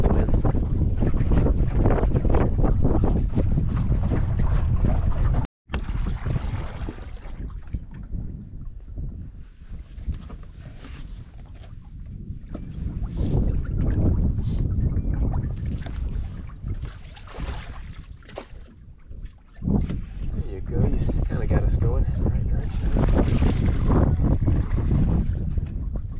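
Wind gusts buffet the microphone on open Everglades flats while a boat is poled along, a loud rumbling roar that rises and falls with a brief dropout early on, with no talk.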